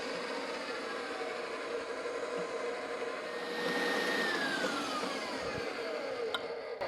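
A stand mixer with a paddle attachment whirs steadily as it works bread dough, a constant motor drone with a slight pitch shift midway, close by and with no talking.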